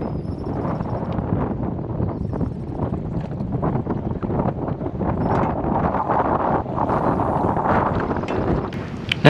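Steady wind rushes hard across the microphone outdoors by the water while bass fishing, a loud continuous roar with gusty swells and no speech.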